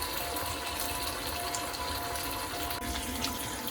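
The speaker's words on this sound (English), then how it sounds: "along with the Korma sauce, I'm going to add in a cup of water" A cup of water pouring into a pan of Patak's chicken korma sauce, a steady close splashing rush that runs the whole time with no break and no talk over it.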